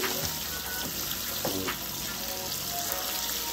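Buttermilk-battered chicken strips frying in hot grease give a steady bubbling sizzle, close and even, broken now and then by soft crackles and clinks, with nobody speaking.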